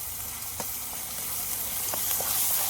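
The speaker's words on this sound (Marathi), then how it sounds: "तो स्वतः हा वाटलेला काळा वाटण्याचा जो पेंड आहे ना तो टाकून घेतो मस्त परतून घेतो" Black ground masala paste for village-style dry chicken fries in a pan with a steady, close sizzle, broken by a few faint scrapes as it is turned.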